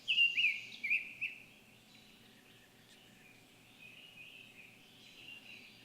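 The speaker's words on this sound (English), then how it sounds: "So that's the summer tanager." A summer tanager sings a few clear, warbled phrases close by at the start, then carries on more faintly over a low, steady background hum.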